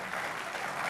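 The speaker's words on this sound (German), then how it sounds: "Applaus ist schön" A short burst of audience applause fills the moment at a Leibniz celebration in Bonn, a dense even patter of many hands clapping at moderate level.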